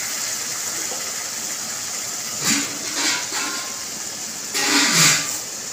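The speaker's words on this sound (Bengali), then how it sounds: "এবার আমি জল ঢেলে দেবো, আন্দাজ মতো জল দিয়ে দেবো।" Water poured into a pan of fried small fish being cooked for a gondhoraj-lime onion chorchori, as a continuous gushing hiss with two louder surges, close and without talk.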